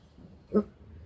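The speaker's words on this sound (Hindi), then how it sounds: "बिल्ली को देख के भौंक रहा है।" A single short bark or yip from a dog barking at a cat, brief and moderately loud against a quiet room.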